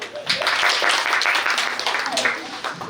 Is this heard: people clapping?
yes